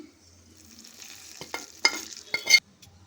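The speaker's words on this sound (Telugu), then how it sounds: "ఈ పోపునైతే పుంటికూర చట్నీలోకి వేసుకుంటున్నాను" Hot oil tempering with turmeric and curry leaves poured into gongura chutney, giving quick bursts of loud crackling sizzle and stirring scrapes after a quiet start.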